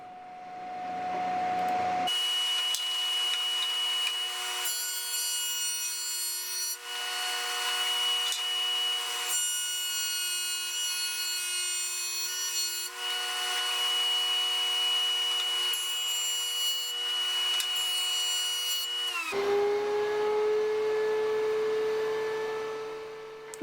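A power planer thicknessing a lumber board runs as a loud, steady whine and cutting roar, starting abruptly after a couple of seconds and holding for about seventeen seconds before winding down.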